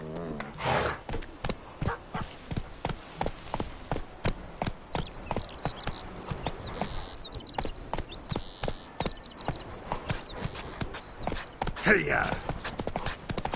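Roach, a horse in The Witcher 3, gallops at a fast rhythmic clip-clop with a brief neigh, while a voice shouts a call to urge it on.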